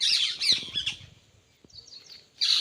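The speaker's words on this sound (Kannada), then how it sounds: "ಗಿಳಿಗಳು ಎಷ್ಟು ಚೆಂದ ಆಡ್ತಿದ್ದಾವೆ ಎಷ್ಟು ಚೆಂದ ಮಾತಾಡ್ತಿದ್ದಾವೆ" Parrots chatter with rapid squawks and chirps, then go briefly quiet before another sharp screech, close by.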